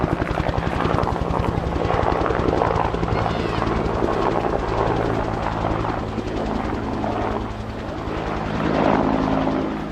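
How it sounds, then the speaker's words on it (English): A UH-1 Huey helicopter flies close by, its loud, steady rotor chop beating a fast rhythm over a deep engine drone that fills the whole stretch without a break. "The sound of just one Huey is impressive enough."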